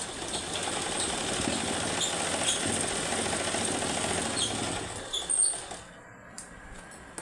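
A sewing machine stitching a seam on a blouse lining, a close, steady rapid mechanical whir that runs for about five seconds and then stops, followed by a few soft handling knocks and near silence.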